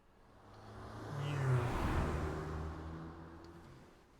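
A limousine engine in the video game Ai: The Somnium Files rises in a smooth revving swell, then fades back down as the car drives past, with no voices heard.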